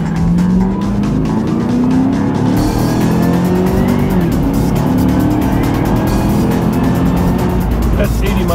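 A 2011 car accelerates hard at full throttle, its engine climbing through rising revs with gear shifts and a sustained loud roar, close up, while someone talks over it.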